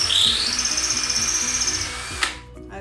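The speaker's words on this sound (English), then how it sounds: "I'm going to take my cordless drill" Cordless drill pre-drilling holes in a garden dish art project, steady high whine close up that cuts off abruptly near the end.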